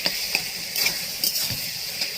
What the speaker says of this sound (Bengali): দিয়ে শুধু ভাজা ভাজা করবো এটাকে